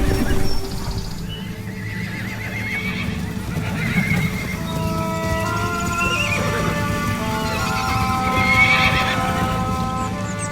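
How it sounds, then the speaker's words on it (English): Young horses at a stud farm move together to new quarters, with repeated neighs and whinnies from several animals over a steady rumble of hooves and movement, loud and close. "the young horses are traditionally moved to their new quarters together."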